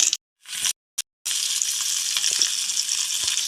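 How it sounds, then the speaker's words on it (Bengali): Banana flower paturi parcels wrapped in leaf frying over a low flame give a steady close sizzle, broken by a few short silent gaps near the start before the hiss settles in continuously. "আঁচটাকে কমিয়ে রেখে স্লো ফ্লেমে ভেজে নেবো পাতুরিগুলো"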